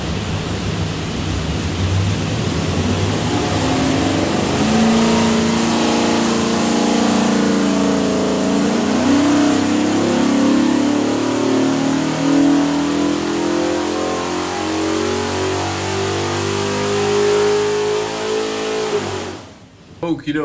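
A Shelby all-aluminum 427 Windsor with a Quick Fuel carburetor and MSD Pro billet ignition roars loudly on a dyno, climbing steadily in pitch through a long sustained pull before cutting off abruptly; a voice speaks briefly under it.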